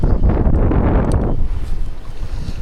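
Strong upstream wind buffeting across a trout river during fly fishing, a loud rumbling rush that eases after the first half into a lower steady roar.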